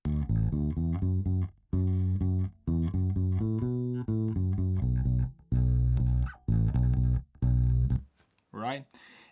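Fender Precision bass guitar plays a rhythmic line of chunky low notes in short phrases separated by brief pauses, close and fairly loud, ending with a short burst of voice.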